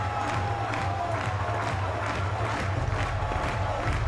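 A college baseball crowd at Wake Forest vs North Carolina cheering and shouting in a continuous loud roar, with rhythmic surges of voices over steady low rumble.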